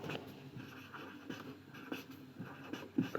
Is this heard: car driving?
no